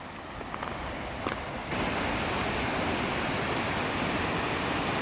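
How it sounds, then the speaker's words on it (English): Small waterfall beside a hiking trail in Banff National Park, Alberta: a steady broadband rush of falling water that swells louder partway through and stays constant, with a few faint knocks early on. "Oh, there's a nice little waterfall here on the trail."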